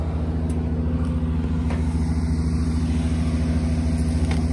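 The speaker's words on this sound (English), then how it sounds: "We've got the excavator coming in on the truck that away." Truck delivering an excavator to a tree removal and land clearing site in Sarasota, Florida, its engine rumbling in a steady, loud, close drone with no talking.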